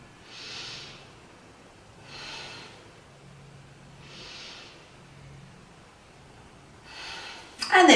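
Slow, audible breaths during a beginner yoga pose come in four evenly spaced soft exhales, each roughly two seconds apart, close and quiet, with a faint low hum beneath.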